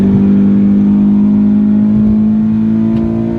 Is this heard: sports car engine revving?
yes